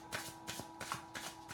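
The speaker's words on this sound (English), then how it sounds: "let's shuffle the cards" A Mystical Tarot card deck being shuffled by hand, with four or five quick, crisp riffles in steady rhythm, close and fairly quiet.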